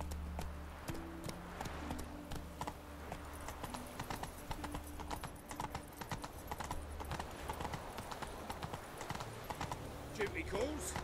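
In The Witcher 3, a horse gallops with a steady, rhythmic clip-clop of hooves, snorting now and then, while a voice talks over it.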